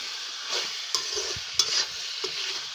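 Chicken liver curry being stirred in a hot pan, a steady sizzle broken by a few sharp scrapes of the spoon against the metal, close and with no talking.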